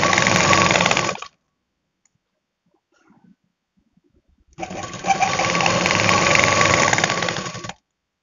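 An electric sewing machine runs two steady bursts while stitching the hem of a salwar poncho, each lasting over a second, with a short quiet gap between them.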